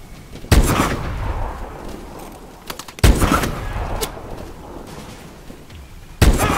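Gunfire in Call of Duty: Advanced Warfare during a cargo-seizure mission: three loud, sharp shots at intervals, each followed by a rolling boom and echoing tail, with lighter crackle of distant fire between.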